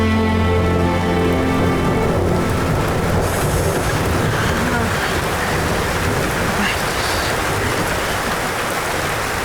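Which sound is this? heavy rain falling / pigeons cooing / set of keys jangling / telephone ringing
heavy rain falling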